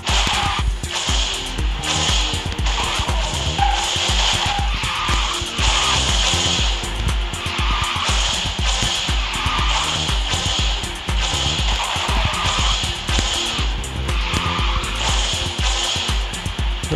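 A fire-themed car drifting on a snow map in Garena Speed Drifters, a loud continuous engine drone with tire skid noise and a busy game soundtrack throughout.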